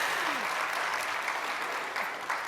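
A conference audience applauds in a dense, sustained patter of clapping hands, steady and fairly close for the whole stretch, with no speech over it.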